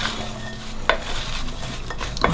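Green chilli pickle being stirred with ground dried seeds, a soft wet squelching churn with two sharp clinks of a spoon against the bowl.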